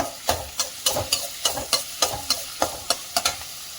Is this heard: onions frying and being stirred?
yes